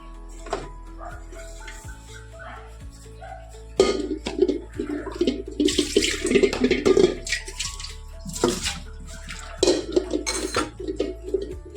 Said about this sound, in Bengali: আর এদিকে আমি চালটাকে ধুয়ে নিই